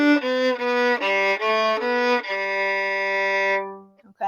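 Violin playing the ending of Arkansas Traveler, measures 7 and 8, at full tempo: a quick run of bowed notes that settles into one long sustained note, then fades out, with no talking.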